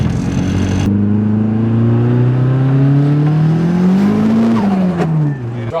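300hp Toyota Starlet with blown shock absorbers and no traction, spinning its tires under acceleration, engine rising in a long rough rev then easing off, loud and close.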